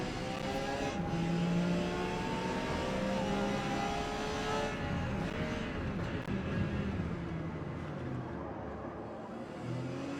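Race cars in Forza Motorsport, led by a Porsche in P class at Grand Oak Raceway National Circuit, roar with continuous engine drone and shifting revs, several cars close together, loud and steady, fading slightly toward the end.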